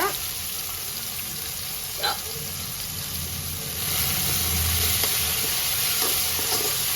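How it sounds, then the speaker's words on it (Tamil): Dry fish curry ingredients sizzle steadily in a hot pan as they are sautéed, with a soft clink of stirring near the start and the frying hiss growing fuller midway through. "எல்லாத்தையும் சேர்த்து நல்லா வதக்கிக்கலாம்"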